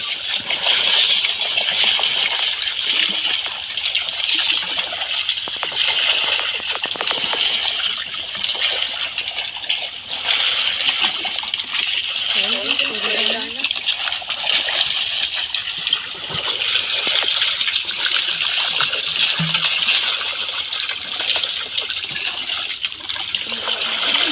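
Water splashes and churns steadily as a person wades into a fish pond, a dense, continuous sloshing throughout with no talking.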